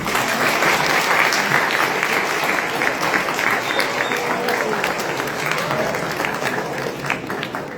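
Loud, sustained applause from a crowd at a political gathering, a broad wash of clapping that stays strong and fades only slightly near the end.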